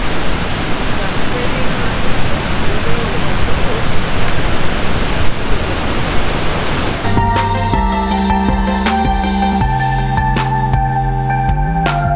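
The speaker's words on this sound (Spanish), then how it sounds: "Ahora ustedes llegan luego a esta cascada que se llama la cascada." A waterfall in Garzón, Huila, Colombia roars loud and steady as broadband rushing water, then music comes in over it for the second half.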